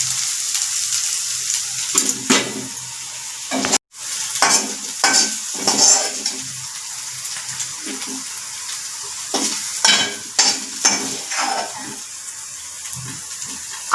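Cooked dry moth beans (sukhi matki) are scraped from a pan onto a plate with a spoon, giving a series of close, irregular metallic scrapes and clinks with no talking.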